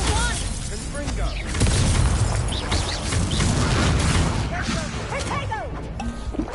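Fire-and-blast spell combat in the Hogwarts Legacy video game: a sustained barrage of crackling bursts, booms and shattering debris, loud and dense throughout, with shouted spell voices and other game sounds mixed in.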